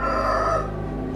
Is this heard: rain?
no